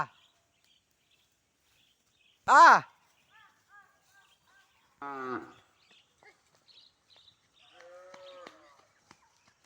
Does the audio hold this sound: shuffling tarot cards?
no